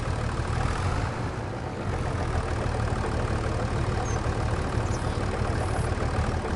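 A TMR feed mixer in Farming Simulator 25 runs with a steady, continuous engine drone, loud and unbroken throughout with no talk.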